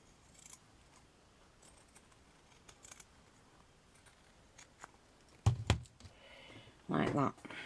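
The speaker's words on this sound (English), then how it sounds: "And then I'm going to cut about 1/2 centimetre all the way around." Scissors snipping through black felt around a beaded cabochon, a couple of close crisp cuts late on after a quiet stretch of faint handling noise.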